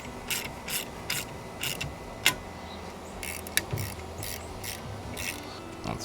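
An antenna mount for a new Comet GP3 antenna is tightened with a ratchet, making quick, close bursts of clicking at a regular pace. Two sharper metallic knocks break in partway through, over quiet background.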